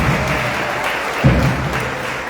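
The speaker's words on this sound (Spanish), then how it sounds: "Fuerte el aplauso." Applause from an audience at a folk music gathering in La Banda, a short dense burst of clapping with a soft thump partway through, without voices.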